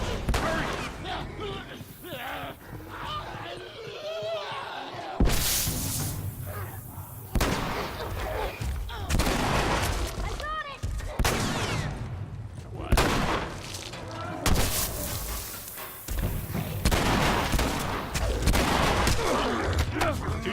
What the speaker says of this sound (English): Shotgun, that was pretty close.